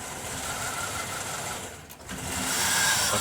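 A 2007 Chevy Tahoe engine with a crank-no-start open ground fault runs up close with a steady mechanical whirring and ticking, dipping briefly near the middle before picking back up, with no talking.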